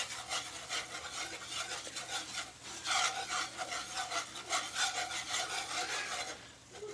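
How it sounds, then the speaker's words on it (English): A whisk scrapes steadily around a frying pan as a roux is stirred toward golden brown for chicken fried steak. The scraping is close and continuous and rasps in uneven strokes, with no talking. "now we're gonna whisk this, you guys, until it's nice and golden brown."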